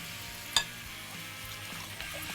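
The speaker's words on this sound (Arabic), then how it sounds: "وانا بشوح البصل والثوم" Onion and garlic sautéing in a pan give a steady, quiet sizzle and frying crackle throughout, with one sharp clatter near the start and a softer knock toward the end, no voices.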